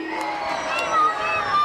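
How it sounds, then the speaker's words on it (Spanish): A crowd cheering and shouting at a Three Kings parade in Vigo, a dense, close roar of voices with children among them and a few claps audible in the mix. "Un aplauso para vosotros."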